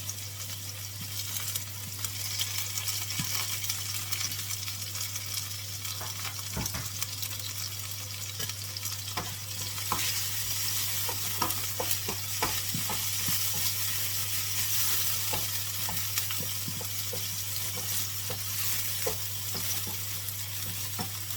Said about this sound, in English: Let it saute here for a minute or so